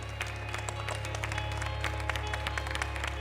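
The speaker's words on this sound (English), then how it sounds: "could we give each other a round of applause" A conference audience at a morning plenary session gives a round of applause, many hands clapping together in a continuous patter over a steady low hum in the room.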